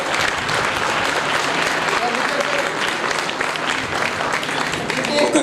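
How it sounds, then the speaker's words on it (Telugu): An audience at a theatre anniversary event in Nizamabad applauds a child performer, dense, steady clapping that fills the room without a break, with faint crowd voices mixed in. "గట్టిగా చప్పట్లు."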